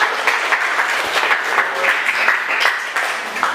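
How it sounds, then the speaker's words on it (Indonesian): An audience at a university group discussion session gives steady, crackling applause that carries on throughout, moderately close. "kasih aplaus dulu untuk pertanyaannya"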